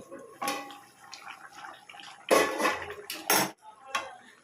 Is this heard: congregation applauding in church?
no